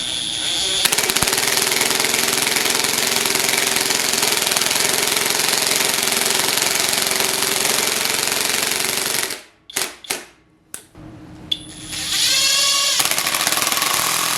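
A DEVON cordless drill drives screws into a workpiece with a loud, steady mechanical whirring that breaks into a few short bursts and stops, then ends with a rising motor whine as the drill speeds up.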